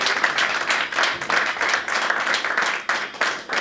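Enthusiastic applause from a congregation during a Hindi-Urdu gospel church service, a steady wash of many hands clapping continuously and fairly loud throughout, with no talking over it.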